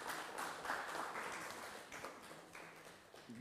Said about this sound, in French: je crois qu'on peut l'applaudir pour cette présentation